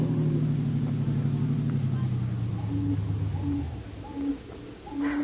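A car drives along in an old-time radio drama, its low engine drone steady and close before easing off, with people speaking over it near the end.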